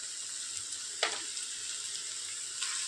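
Spiny gourd sautéing in a pan with turmeric and coriander powder, a steady soft sizzle with one sharp scrape of a spatula midway and another stir near the end.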